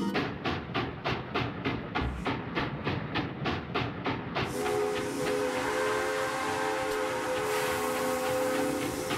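A train rolls along in the Luigi's Mansion 2 HD video game, with a steady rhythmic clatter of wheels that gives way to a sustained whistle-like tone over a rumbling bed.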